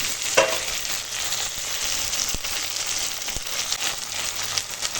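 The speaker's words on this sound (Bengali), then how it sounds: "পেঁয়াজ ভাজা হয়ে গেছে এবার টমেটো কুচি দিয়ে দিলাম" Chopped tomatoes sizzle in a pan of fried onions for a pomfret fish curry while being stirred; a dense, steady frying hiss is broken by occasional scraping knocks of the utensil.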